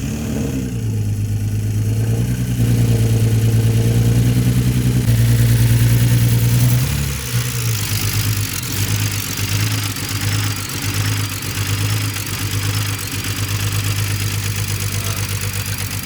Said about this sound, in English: Run the engine.